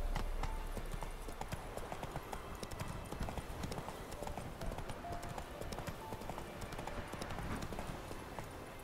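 Hooves of the horse Roach in The Witcher 3 clip-clop in a steady, continuous rhythm, loud and close throughout, with faint ambient noise behind and no talking.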